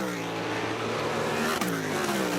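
A 2008 IndyLights race car at Watkins Glen roars past with a high, rising engine whine that swells and then drops sharply in pitch as it goes by, and crowd-level track noise sits beneath it.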